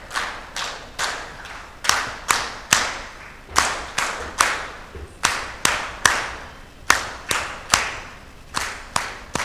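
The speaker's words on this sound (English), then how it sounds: "please clap" Sparse, separate claps from an audience at an East African civil society summit, around two dozen distinct sharp hand claps spaced unevenly rather than a full applause wash, fairly close and without talk.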